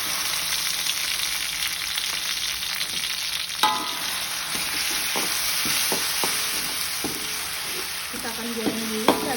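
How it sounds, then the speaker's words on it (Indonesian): Blended bird's eye chilies and garlic fry in a pan with a loud, steady sizzle. A utensil scrapes and taps the pan repeatedly as the paste is stirred. "Kita akan goreng dulu cabainya sampai matang."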